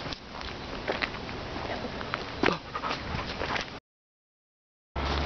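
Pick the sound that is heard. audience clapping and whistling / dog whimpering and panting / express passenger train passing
dog whimpering and panting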